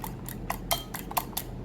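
Eggs whisked in a bowl for sosis solo, the utensil striking the sides in about seven light, sharp ticks at an irregular, fairly quick rhythm, close and faint over a low hum.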